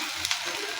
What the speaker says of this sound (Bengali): পেঁয়াজ আমার এই যে ভাজাও হয়ে গেছে।